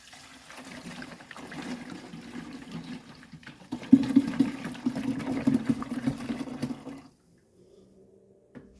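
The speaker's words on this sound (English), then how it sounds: "let's go ahead and make sure our wiper fluid works" Washer fluid sprays from the rear washer of a 1985 wagon, a soft steady hissing spray with a faint pump hum lasting about seven seconds before cutting off, followed by quiet.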